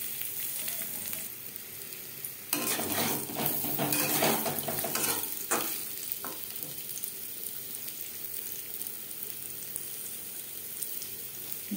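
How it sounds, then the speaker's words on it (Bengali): Peeled, boiled potatoes fry with salt and turmeric in a pan for aloo chicken, a steady close sizzle with a louder burst of crackling and stirring scrapes partway through before settling back to an even hiss. "লবণ হলুদ দিয়ে আলু হালকা করে ভেজে নেব।"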